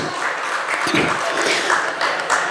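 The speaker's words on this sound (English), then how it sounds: "How about a round of applause for our supporters and our board?" Audience applause at a community heritage festival, a steady broadband patter of clapping sustained throughout at moderate level with no voices over it.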